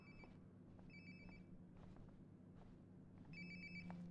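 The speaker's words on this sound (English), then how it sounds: "Sounds like my phone is definitely nearby." A mobile phone rings nearby inside the video game Life Is Strange: Before the Storm, with repeated bursts of electronic ringtone separated by short gaps over a low background hum. Nobody speaks.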